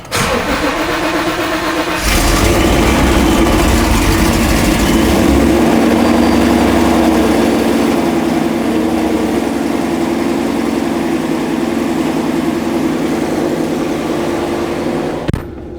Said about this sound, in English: we're about to give her a little cold start and go out for a little drive